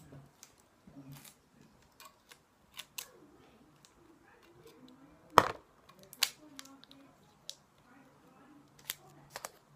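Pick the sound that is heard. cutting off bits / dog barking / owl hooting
cutting off bits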